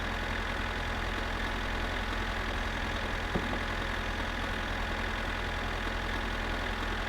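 An old tractor sits idling in the My Summer Car video game, its engine a steady low rumble with one brief knock partway through.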